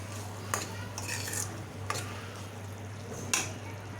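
Corn and capsicum curry is mixed in a pan, with a few soft scrapes and clinks of a spoon against the metal over a low steady hum, quiet and unhurried.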